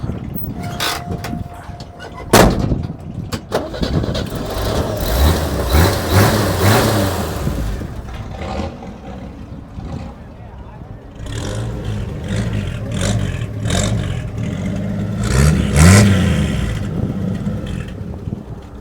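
The engine of a 1963 Chevrolet K20 brush truck, a fire rig, starts with a sharp crank and then runs steadily, its exhaust rumbling close by with a few light revs over the idle.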